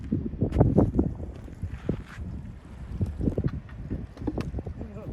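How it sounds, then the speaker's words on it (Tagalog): Gusty wind buffets the microphone in low rumbling bursts at the water's edge during high tide, with water and a voice speaking in the background. "Malakas hangin eh."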